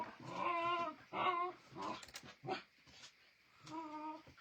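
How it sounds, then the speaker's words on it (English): Dogs play fighting indoors, trading a burst of whimpering, whining yips and short growls in close, irregular bouts with brief pauses between. "My dogs are play fighting. They're not really fighting."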